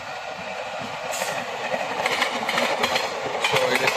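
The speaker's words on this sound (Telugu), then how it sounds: "సో ఇక్కడ ఇంకొక ట్రైన్ వస్తుంది" Another train approaching and passing at a crossing on a rail journey, a moderate rumble of wheels and cars building gradually, with faint clattering rail joints and no talk.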